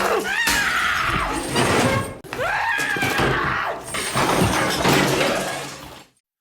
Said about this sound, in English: she smashes the ceramic doll Rick gave her